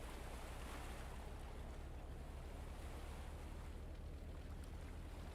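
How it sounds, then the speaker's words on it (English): Boat engines running in the Stormworks video game, a steady, constant wash of broadband noise with a low droning hum underneath, unchanging throughout and with no voices. "So the engines are running."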